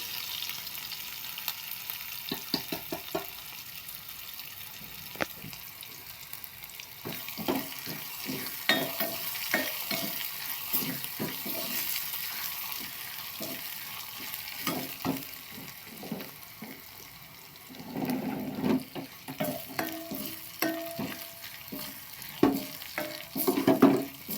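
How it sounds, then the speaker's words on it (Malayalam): Steady sizzling of garlic and crushed shallots frying in a pan for tempering, with intermittent stirring clicks and scrapes throughout, close by and moderately loud. "താള് കറിക്ക് വറുക്ക് ഒരു വറവാക്കുന്നുണ്ട് കേട്ടോ കുറച്ച് വെളുത്തുള്ളിയും"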